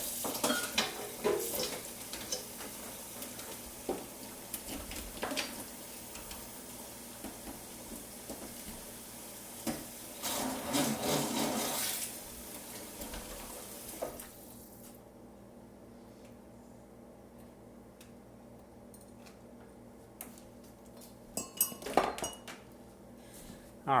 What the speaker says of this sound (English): something I want to clean right away is this immersion blender